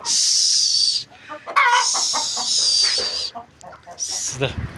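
Hens cluck and squawk close by in loud bursts as they are herded back inside, with a person's voice mixed in between the calls.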